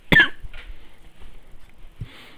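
A single sharp cough right up close from a person in a warm room, followed by quiet breathing and faint shuffling in the background.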